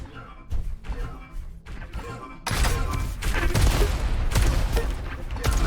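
Rocket fire in a Diabotical duel, a fast arena shooter: dense bursts of explosive thumps and blasts that intensify into a continuous barrage in the second half.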